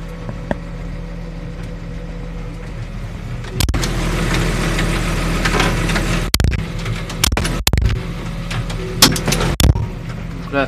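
A New Holland T6.175 tractor engine idles while still warming up, a steady close diesel rumble with a faint turbo whistle, joined midway by louder revving and intermittent clanks and knocks.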